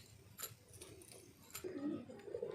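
Old flying pigeons in a loft give soft, low coos near the end, faint under scattered rustling and light handling sounds.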